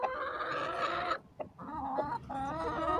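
A rooster and hens cluck close by in a short, steady burst of throaty, rising calls with a brief pause partway through and no talking.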